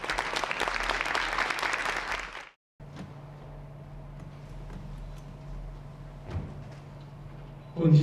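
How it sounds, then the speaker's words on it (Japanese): A crowd at the 2022 coming-of-age ceremony at the Nanayama venue in Karatsu City applauds with dense, loud clapping for about two and a half seconds, then it stops abruptly, leaving a quiet hall with a faint hum. "もう一度拍手をお願いいたします。"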